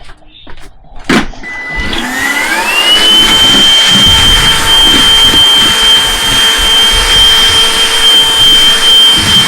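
A cordless vacuum cleaner switches on after a few clicks and spins up to a loud, steady, high-pitched whine with a jet-like roar, running close by and continuously to the end.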